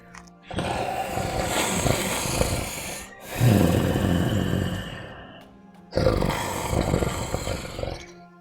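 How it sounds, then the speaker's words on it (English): Very loud snoring from a creature behind a tavern bar in a Dungeons & Dragons setting, rendered as three long, rough, growling breaths with short silent gaps between them and no talk. "And you can hear this very loud snoring."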